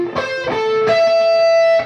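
Slowly played electric guitar picks a riff: three distorted, effects-laden notes, the last ringing out sustained before cutting off.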